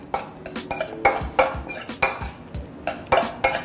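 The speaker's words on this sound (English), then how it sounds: "Now he mix it, and that's going to be the filling for the gunkans." Sushi filling seasoned with sea salt is stirred in a bowl, giving a brisk run of close, repeated clinks and scrapes of utensil against the bowl in an uneven rhythm.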